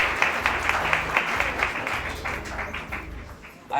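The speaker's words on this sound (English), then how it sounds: "I'd like to give a special round of applause for her" Audience applause for a woman being honoured at the opening of a secondary school library: steady, dense clapping from a gathered crowd that runs for a few seconds and eases slightly before a sharp final swell.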